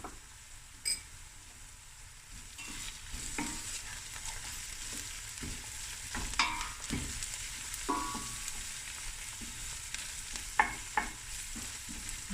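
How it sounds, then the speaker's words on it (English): Fresh garlic and ginger fry in a pan, a soft continuous sizzle broken by light stirring scrapes and occasional clicks, fairly quiet and close. "now I'm going to add my garlic, fresh garlic, ginger"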